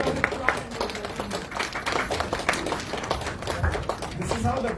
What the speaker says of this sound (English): let us all give him a big round of applause and welcome